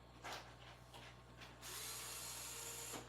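Wheels being removed from an RC scale truck, with a few soft clicking ratchet-like turns followed by a continuous faint whirring of a small tool, close up and quiet over background hum.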